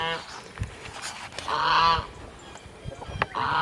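Geese and ducks honk repeatedly at an A-frame coop, loud nasal calls in bursts close to the microphone with short gaps between them.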